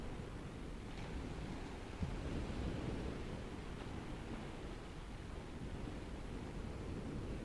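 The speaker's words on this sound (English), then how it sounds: "You might hear the sound of the waves on the beach behind me." Ocean waves washing onto a beach, a soft, steady rushing surf that stays faint and continuous with no voices.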